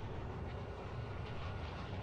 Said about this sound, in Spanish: Me rompió el escape del auto y ando haciendo un desmadre de ruido.